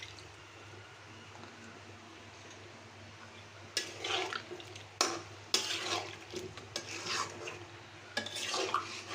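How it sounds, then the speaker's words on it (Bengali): A little water poured into a pan of potatoes cooking on a clay stove. After a quiet, steady background hum, splashing and hissing bursts start partway through and continue in uneven surges, close by. "আলু সিদ্ধ হওয়ার জন্য সামান্য পানি দিয়ে দিচ্ছি।"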